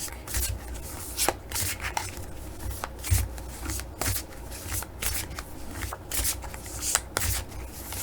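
New Mythic Tarot cards shuffled by hand, a continuous run of riffling, papery slaps and brushing flicks in a steady uneven rhythm, close and moderately quiet.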